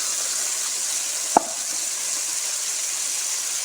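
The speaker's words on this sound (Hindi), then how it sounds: "प्याज सुरख हो गया, अब इसमें जाएंगे टमाटर" Tomatoes dropped into browned onions in a hot pan, a steady hiss of frying oil with one sharp clatter as they land, then continuous sizzling, no voices.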